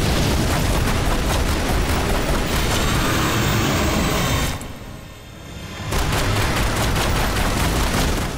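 Rapid gunfire from Tomb Raider Anniversary, a dense, loud, continuous barrage of shots with a brief dip in the middle before the volley resumes at full force.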